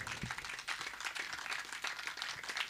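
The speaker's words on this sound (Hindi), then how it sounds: "उत्साह के लिए एक बार ताली बजाकर स्वागत करेंगे।" Crowd applause welcoming children after an exercise demonstration, a dense, steady wash of many hands clapping, somewhat distant and moderate in volume, continuing throughout.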